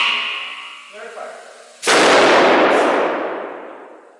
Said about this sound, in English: We're about to blow a really big fuse.